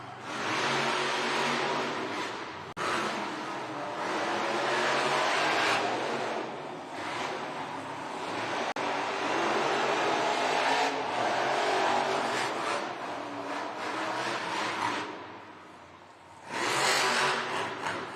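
Monster trucks racing in an arena at a Monster Jam event in Pittsburgh, engines roaring continuously at high volume with surges and dips of revving over a steady crowd-filled wash.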